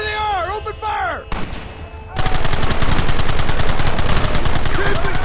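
Heavy gunfire in the Red Dead Redemption video game: after brief shouting voices and a short lull, a loud, dense volley of rapid shots and automatic fire rattles on continuously.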